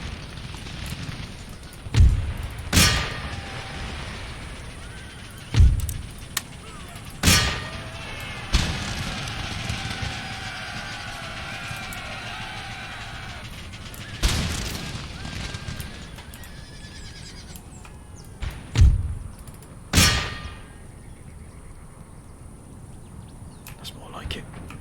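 Artillery booms in a battle in the video game Empire: Total War, with repeated sharp blasts at irregular intervals over a busy battlefield din of shouts and clatter.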